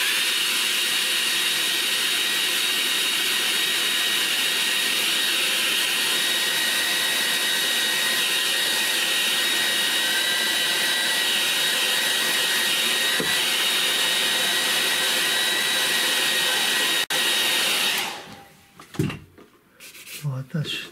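Hair dryer blowing on watercolour paint on paper, a steady loud whooshing drone held for most of the stretch, then cut off, followed by faint handling clatter.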